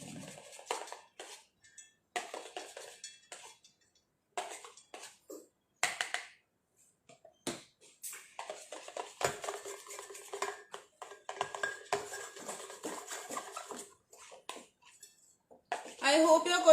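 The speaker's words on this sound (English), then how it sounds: "So mix it properly." Cake batter for a chocolate mango cake being mixed in a bowl, with intermittent scraping and clinking of a utensil against the bowl, soft and close, broken by pauses.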